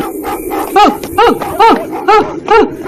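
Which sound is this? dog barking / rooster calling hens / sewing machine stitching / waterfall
dog barking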